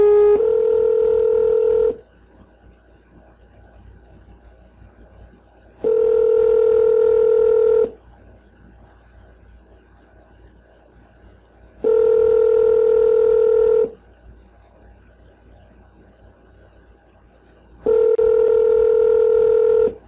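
Repeating telephone tones sound in long, steady beeps of about two seconds each, four of them separated by pauses of faint line hiss, loud and clear with no voices.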